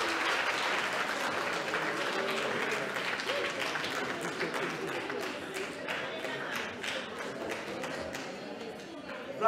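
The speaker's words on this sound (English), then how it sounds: "Give him a round of applause." Sustained applause from a large congress audience fills the hall, steady dense clapping that tapers slightly toward the end, with some crowd murmur mixed in.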